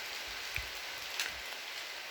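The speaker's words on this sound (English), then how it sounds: "And here comes the rain." Rain falling in a rainforest, a steady soft hiss of drops on leaves and surfaces with a couple of faint nearby plops, fairly quiet and even throughout.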